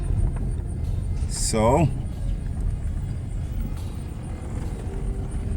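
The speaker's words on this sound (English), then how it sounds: "I'm making a test drive, a road test drive" A VW Jetta mk5 rolls along on a road test, its steady low road rumble and cabin noise continuing throughout, with a brief rising chirp early and a faint spoken word.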